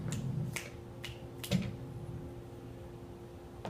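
Finger snaps from a spoken word gathering, a few sharp clicks near the start and around one and a half seconds, fairly close and quiet over a low steady room hum with no talking.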